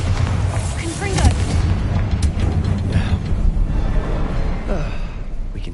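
Confringo blasting-spell explosions go off during combat in the Hogwarts Legacy video game. Dense low booms and rumbling bursts run throughout, loud and continuous, with spoken voices layered over the noise.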